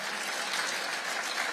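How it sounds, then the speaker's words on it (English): An audience at a global forum panel gives dense, sustained applause, an even wall of many hands clapping with no pause. "Give this panel and this group a round of applause."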